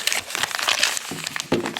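A plastic bag from a subscription gear box being handled during unboxing, close, quiet crinkling and crackling in short irregular bursts, with no speech.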